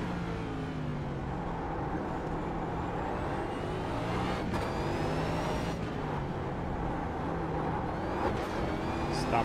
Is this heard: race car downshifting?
yes